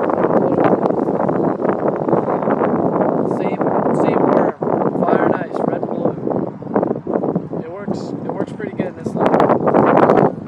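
Strong, steady wind buffeting the microphone with a constant roar, gusting louder in places, while people talk over it outdoors on a cloudy day of bass fishing.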